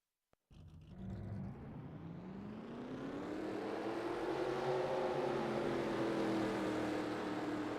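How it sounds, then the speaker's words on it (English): Race car engines in a racing video game starting with a sharp click, then a loud, steady roar that rises in pitch as the engines rev up and hold, with no talking. "Drivers, start your engines."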